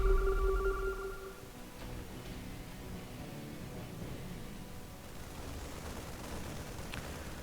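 A phone notification chimes with a short tonal ring at the very start, loud and alone, then fades into a low hiss and background noise.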